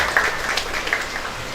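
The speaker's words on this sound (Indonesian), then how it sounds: "Boleh tepuk tangan yang mudah Bapak Ibu." Guests at a Javanese wedding ceremony give a short round of applause, a brief, bright spatter of hand claps at moderate loudness that fades within a second or two.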